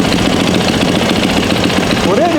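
A 4-stroke dirt bike engine, freshly refilled after an oil change, idles loudly and steadily up close with a continuous low rumble, while a person talks over it.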